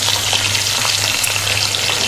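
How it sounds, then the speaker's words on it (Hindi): Onions for a mixed vegetable sabji are browning in a pan, giving a loud, steady sizzle and crackle of frying oil that continues without a break and without any voices. "ये मैं डाल दूंगी और प्याज़ों को हम ब्राउन होने देंगे।"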